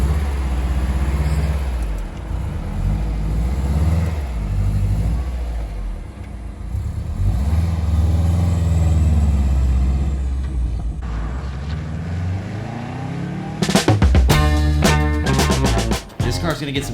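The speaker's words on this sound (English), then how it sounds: "Love the whine of the whole drivetrain." Stock-exhaust 2007 Subaru STi pulling away, a steady loud engine and drivetrain drone holding for about thirteen seconds, then giving way to sharper, rapidly pulsing mechanical noise near the end.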